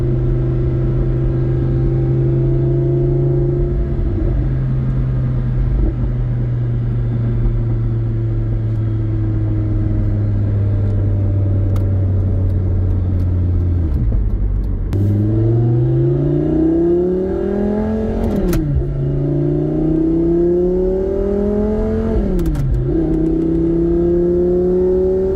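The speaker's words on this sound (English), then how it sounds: "Exhaust sounds just perfect." A 2012 Lamborghini Gallardo with a gated six-speed conversion drones steadily while cruising, then the exhaust climbs through several rising pulls with quick drops at shifts, loud and continuous from inside the car.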